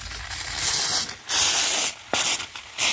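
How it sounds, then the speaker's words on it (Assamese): A pressure cooker holding dal releases steam in loud hissing bursts, several in a row with short gaps between them, close by and with no voices. "চাওক কুকাৰটো হুইসেল মাৰিছে"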